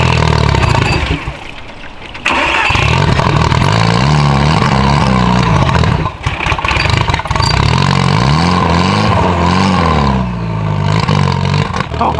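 A purple car engine cranks, catches and roars through a couple of loud revs. After a brief dip the throttle rises and falls in repeated surges, then settles into a rough, rumbling run close by.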